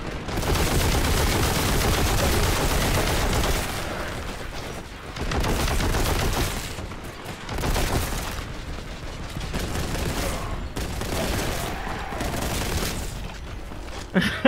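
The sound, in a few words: machine gun fire from cultist enemies in Warhammer 40,000: Boltgun video game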